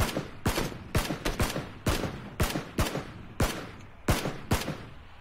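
Gunfire in the video game PUBG: a close, loud run of sharp single shots and short bursts in an uneven rhythm, with no talk.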